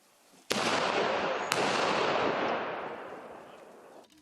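A sudden sharp blast cracks out as sappers detonate a rocket assault grenade, then a second bang a second later, followed by a long rolling rumble that slowly fades into near silence.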